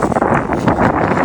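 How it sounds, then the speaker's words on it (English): Strong outdoor wind buffets the microphone in loud, uneven gusty rumbles, close and rough, with a voice briefly heard under it. "It's windy out here, huh?"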